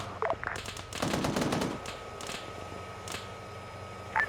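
Suppressive gunfire in the tactical shooter Project 11: distant, fairly faint bursts and scattered shots over a steady low rumble, with a short sharp sound near the end.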